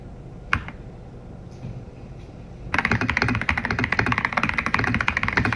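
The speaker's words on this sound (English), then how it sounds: "this is the one where she's trying to prove that she can type" Typing on a computer keyboard: after a quiet start with a couple of isolated taps, a fast, dense run of close, loud key clicks continues to the end.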